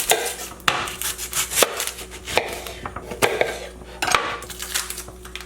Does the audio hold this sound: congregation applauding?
no